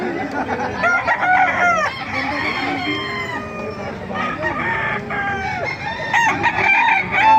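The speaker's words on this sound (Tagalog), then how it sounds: "Maraming manok dito mga kamaster sa Baliwag yan." Chickens crow and cluck almost continuously, several birds calling over one another at close range at a chicken market in Baliuag.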